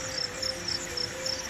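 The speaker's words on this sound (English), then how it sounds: "deep in the trees, jungle crickets screamed like drums in a quiet temple" Jungle crickets shrill in a rain-washed forest. A close, steady high trill comes in short regular pulses, about four bursts a second, over a faint continuous background hum.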